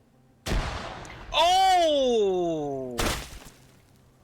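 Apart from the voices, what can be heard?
frag grenades exploding in video game Arma 3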